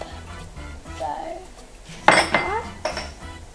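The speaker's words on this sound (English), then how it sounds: "So now we're going to put all the vegetables onto a pan. We're going to mix them all up." Vegetables such as chopped onions, broccoli and peppers being mixed in a pan, with close clattering and clinks of a utensil against the pan in short bursts over a faint low hum.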